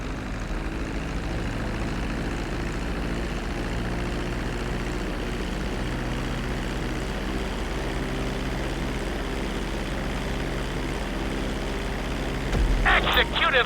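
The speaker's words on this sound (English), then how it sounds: "reducing the plane's altitude gradually so you're just above the runway as you approach" A propeller airplane engine in Grand Theft Auto V drones steadily and loudly as the plane descends toward a runway to land, with a brief burst of higher-pitched noise near the end.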